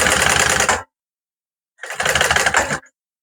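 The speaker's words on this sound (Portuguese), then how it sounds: "Esse aqui eu vou costurar junto com vocês" Sewing machine stitching a bag, running in two short rapid bursts of mechanical whirring separated by a silent pause, close and loud.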